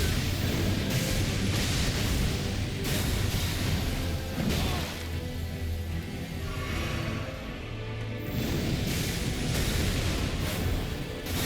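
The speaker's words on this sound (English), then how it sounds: "Get away from these follow-up explosions." Follow-up explosions from a boss attack in the video game Elden Ring, a dense, continuous roar of crashing booms and whooshes that stays loud throughout with no speech.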